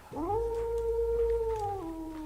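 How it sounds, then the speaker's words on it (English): A werewolf's howl in a card-battle video game rises quickly, then holds one long, loud, steady tone with a clear harmonic above it for about two seconds. It sags slightly at the end and plays alone, with no talking. "Landon uses werewolf howl."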